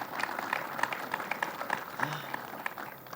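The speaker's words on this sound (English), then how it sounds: "Let's give a huge round of applause to our friends in labor." Applause at a groundbreaking event for a state construction project: scattered, distinct claps from a modest crowd, fairly quiet, with voices talking alongside.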